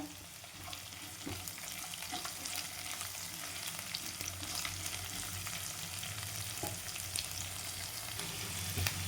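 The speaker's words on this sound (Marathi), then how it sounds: "आता कांदे टाकते मी मोठा कांदा घेतला कांदा पण छान भाजून घ्यायचा आपल्याला" Chopped onion sizzles and crackles steadily in a pan of oil alongside already-roasted garlic, a dense close frying hiss that holds at an even loudness throughout with faint stirring scrapes.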